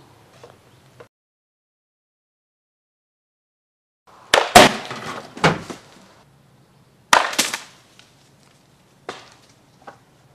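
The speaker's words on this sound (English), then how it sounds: "Now we put the wooden block in and fire away." A blunderbuss slingshot fires a wooden block, giving sharp, loud snaps and clattering impacts in a few separate bursts, with quiet gaps between them and faint sounds at the start.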